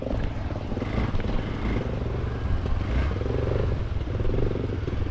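A Husqvarna 250 dirt bike rides a narrow single-track trail, its engine droning steadily and close for the whole stretch, with faint clatter from the rough ground and no speech.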